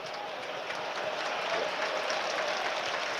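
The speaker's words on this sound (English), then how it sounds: "Big round of applause as well he gets from the crowd." A football stadium crowd at a Sunderland versus Hull City match applauds a player in a broad, steady wash of clapping. The sound swells slightly midway and holds without distinct voices.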